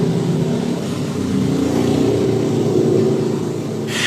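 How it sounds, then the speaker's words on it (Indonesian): A motorcycle passes by, its engine a loud sustained drone that swells slightly and then eases, with a short hiss of noise at the end and nobody talking. "motor lewat nih"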